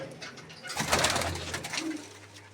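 A female pigeon coos close by, a soft throaty rolling call lasting about a second, with quiet background noise before and after.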